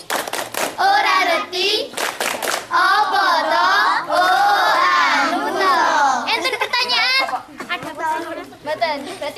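Children's voices chant and sing loudly together in an Indonesian scout clapping chant while hands clap along in a steady rhythm, with a few sharp claps at the start.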